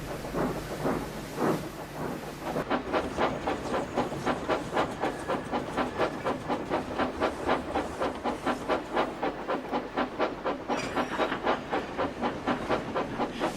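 A steam train engine chuffs in a steady, quickening rhythm of regular exhaust beats, close and prominent over a hissing background, after a few slower puffs at the start.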